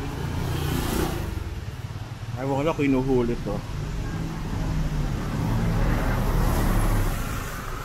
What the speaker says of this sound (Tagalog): Nakadadaan, puro motor.